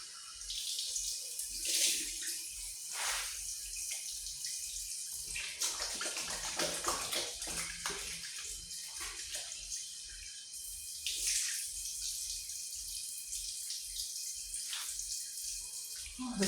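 Water running steadily from a tap while hair is washed, a continuous close splashing rush with shifting gurgles and splatters throughout, no talking.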